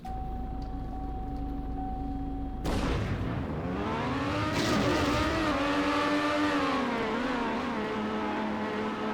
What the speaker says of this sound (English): As you see, the car slows down.